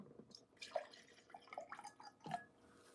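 Water poured into a glass flask, a quiet trickling and dripping with small plinks and splashes over about three seconds, heard alone without talk.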